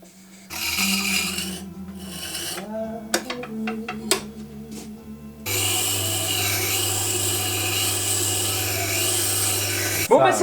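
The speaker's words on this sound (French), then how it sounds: "il me reste plus qu'à affûter la lame." A blade from a metal hand plane is sharpened close by. A humming tool with clattering knocks gives way to a loud, continuous grinding rush that ends abruptly.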